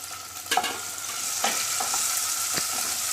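Onion and tomato fry in a pan with a steady close sizzle, broken by a few scraping stirs of a spoon against the metal.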